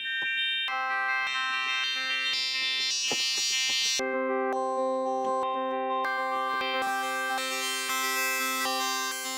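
A Hydrasynth synthesizer oscillator plays bright, sustained tones rich in overtones. Chords change every few seconds, loud and close, with no voices.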